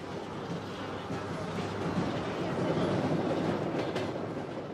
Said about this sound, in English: The last few miles of my journey into Vladivostok are along the Trans-Siberian Railway line.